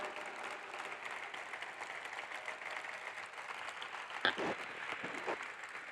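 A conference audience at a closing plenary and ceremony applauds the office team on stage, with soft, continuous clapping heard from a distance at low level.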